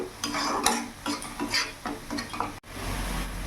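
Ginger-garlic-chilli paste stirred in a pan, rhythmic scraping and clinking of a spoon against metal over a light sizzle, ending in a brief cut and a low hum.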